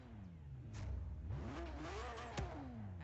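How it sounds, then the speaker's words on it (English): Car engine in the racing game Forza Horizon 3 starting up and revving, a left-hand-drive car with a redline near 8,000 RPM; the pitch climbs and falls in several rising revs with a sharp blip near the end, heard alone. "We start it up here, we can listen to the engine."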